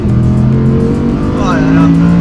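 An Audi R8 GT's V10 engine drones loud and close under full throttle, its tone climbing steadily as the car pulls hard, with speech mixed in over the engine.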